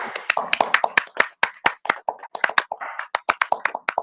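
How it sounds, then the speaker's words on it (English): Hands clapping at a council cabinet meeting, a brisk run of sharp, close claps with uneven rhythm, heard alone without speech. "I think that deserves a virtual clap"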